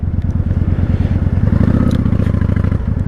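A 1998 Honda Shadow 1100 motorcycle engine with aftermarket modifications chugs loudly and close by in a steady, rapid low pulse that rises slightly midway, heard alone.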